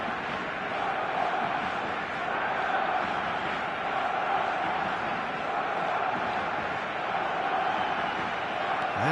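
Steady stadium crowd roar from a football video game, a dense continuous wash of cheering and chanting at even loudness throughout, with no clear peaks or breaks.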